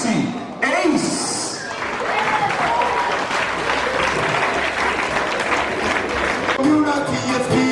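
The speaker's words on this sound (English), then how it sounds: "a round of applause for Mr. Gracie Ace" Applause from the crowd at the PNCR 18th Biannual Congress: a dense, steady burst of clapping from many hands, with a few scattered cheers, filling the hall for several seconds.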